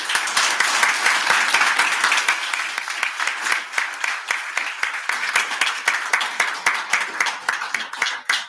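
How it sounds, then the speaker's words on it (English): Round of applause from the audience at a city commission meeting, steady dense clapping throughout, fairly close and loud, thinning slightly toward the end. "We can give them a round of applause."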